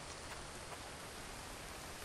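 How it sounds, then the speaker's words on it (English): Rain falls in the survival video game The Infected, a soft, steady broadband hiss of drops with no talk over it. "And it's starting to rain."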